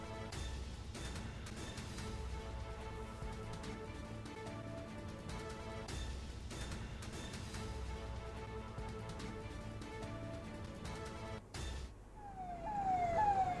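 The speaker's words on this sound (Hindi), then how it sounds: "ये एम्बुलेंस है भाई, एम्बुलेंस जा रही भर भर कर।" An ambulance siren wails steadily over background noise for most of the stretch, then rises sharply and grows louder near the end as it passes close by.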